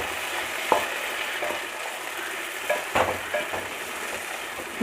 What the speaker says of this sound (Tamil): இப்போ இந்த தக்காளி நல்லா குலைவாக வதங்கணும்